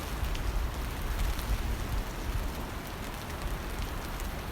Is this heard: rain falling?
yes